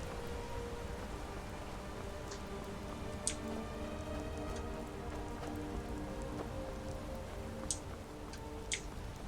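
Steady rain in the video game Skyrim patters across a surface, a dense even hiss with occasional sharper drips standing out, no voices.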